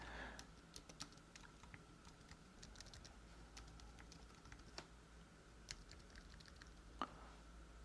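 Keys of a black Apple Magic Keyboard with pentagraph-style switches being typed on at a steady, quiet pace, soft clicks scattered close up over a faint low hum, with no voices.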